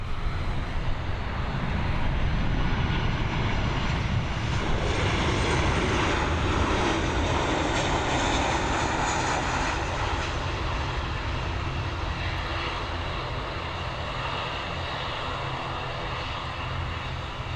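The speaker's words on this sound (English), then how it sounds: "From a Boeing 737 MAX to a Boeing 737, again operated by Ryanair." Ryanair Boeing 737 landing at Dublin Airport, a loud, steady jet engine roar holding throughout with broad rumbling noise and no voices.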